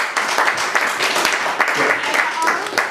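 Audience applause at a live hip-hop show, a dense wash of clapping that fills the whole stretch at steady loudness.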